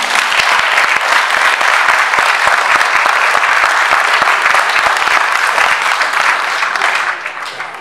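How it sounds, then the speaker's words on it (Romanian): An audience at a Gorj autumn gathering in the capital claps in steady, dense applause, loud and close, sustained throughout before easing slightly at the very end. "Hai să dovedim totuși că ni s-au deschis inimile și să aplaudăm."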